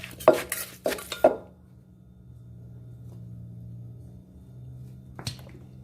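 Fermented-fish papaya salad pounded in a mortar, with a few sharp clattering knocks close up at the start, then a low steady hum and one more knock near the end, no talking.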